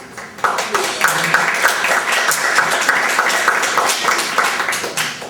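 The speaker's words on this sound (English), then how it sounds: "So I'll give her a round of applause." A student assembly meeting erupts into a full round of applause, many hands clapping close and loud in a dense, steady burst that carries through the whole moment.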